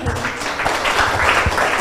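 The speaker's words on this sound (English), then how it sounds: "please give IUB team a big round of applause" An audience applauds a debate team, producing a brief burst of clapping that stays fairly even and close for a couple of seconds.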